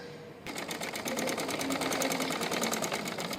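A sewing machine starts up and runs in a fast, steady rhythmic stitching patter while sewing the neckline of a Punjabi dress, close and clear with no voices.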